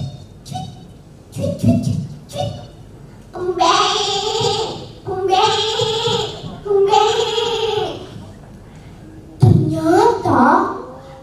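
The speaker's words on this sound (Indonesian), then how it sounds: "suara kambing mengebik" Goat bleating in a series of loud, wavering calls, about three long bleats in a row followed by a shorter one, close and clear over faint background noise.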